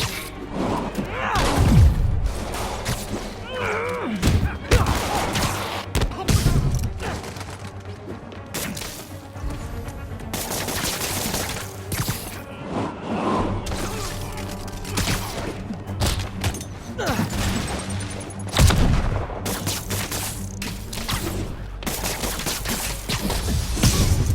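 Enemy gunfire in the video game Marvel's Spider-Man, dense bursts of shots mixed with heavy thumps and crashes throughout a loud, busy combat mix with no talk.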